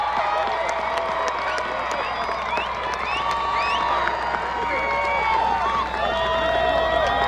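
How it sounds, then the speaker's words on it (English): A graduation crowd at a high school ceremony stands and applauds parents, with dense, sustained clapping mixed with cheers and whoops that runs steadily through the whole stretch. "join me in giving them all a big round of applause"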